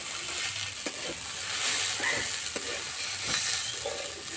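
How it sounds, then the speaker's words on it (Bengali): Rice for prawn pulao fries and is stirred in a pot, with a continuous close sizzle broken by several scraping strokes and light knocks of the spoon against the metal. No voices are heard. "কিছুক্ষণ এইভাবে নেড়ে নেব।"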